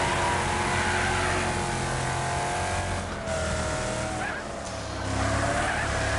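A racing car spins out in Wreckfest, tires squealing and skidding loudly over a sustained engine drone, with a brief dip midway before the screech and motor swell back up.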